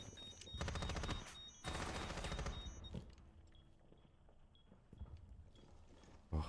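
Players in a shooter game trading gunfire back and forth: dense rapid bursts of shots for the first few seconds, then a quieter stretch with scattered distant pops and a sharp final shot.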